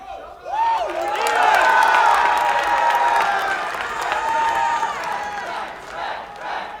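An esports crowd at a Dota 2 tournament in New York roars with cheers, whoops and applause for a fan's sign, swelling quickly and holding loud before easing slightly.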